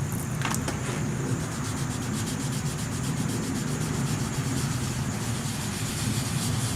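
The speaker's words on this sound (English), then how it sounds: "Just keep your block flat because it'll ride on top of what you need to sand down" Steady, close abrasive rubbing of a sanding block with 800 to 1,000 grit paper leveling a paint run on a car's painted panel, even strokes continuing without a break and no talking.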